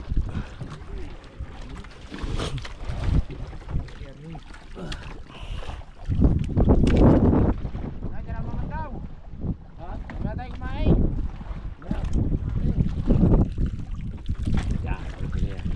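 A small fishing boat at sea at night, its engine and water noise running loudly and continuously with wind buffeting the microphone, under near, frequent talk from the crew.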